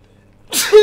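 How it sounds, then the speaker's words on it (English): One loud, close sneeze bursts out after a moment of near silence and ends on a short voiced tail. "Oh, and I also need to sneeze."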